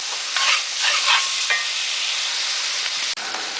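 Seasoned vegetables with potatoes and green beans for vegetarian lumpia cook in a pan, giving a loud, continuous sizzle with stirring scrapes near the start.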